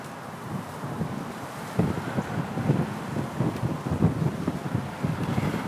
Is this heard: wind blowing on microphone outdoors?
yes